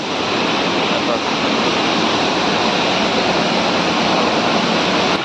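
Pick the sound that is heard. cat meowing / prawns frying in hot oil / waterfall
waterfall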